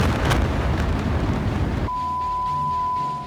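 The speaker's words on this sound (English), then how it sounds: "The water in combination with the chemicals causes a massive explosion." A massive explosion at a chemical factory, set off when firefighters' water meets the chemicals, hits as a loud broadband roar and rumble, then cuts abruptly to a quieter background with a steady high tone.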